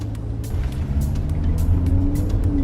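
A VW Touareg drives over a rough off-road track, its engine a steady low rumble with bumps and knocks from the terrain, heard from inside the vehicle at a constant moderate level.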